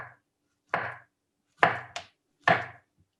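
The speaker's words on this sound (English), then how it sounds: "You just take a banana and you go ahead and make small slices in the banana." A knife slices through a banana on a cutting board in four quick, separate strokes, each a short, crisp tap with a brief scrape, close and fairly quiet, with silence between.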